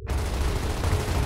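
Dense, sustained gunfire rattles without a break through a short burst of intense combat in Gears of War Ultimate Edition, loud and close, with no talk.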